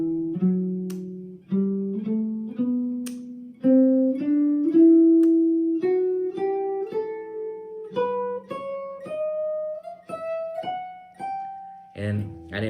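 A jazz guitar plays the first eight bars of a jazz standard as a clear sequence of plucked single notes in steady time, stepping upward in pitch. The notes are close and distinct, with a brief strummed chord at the very end.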